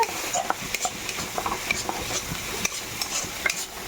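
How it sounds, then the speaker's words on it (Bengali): Potatoes fry in a pan with a close, steady sizzle broken by frequent stirring and scraping of a spatula against the metal. "এখানে আমার আলু ভাজা হচ্ছে"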